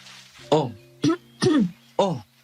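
Four short, harsh coughs come in an uneven series, close and fairly loud, with a faint hum in the background.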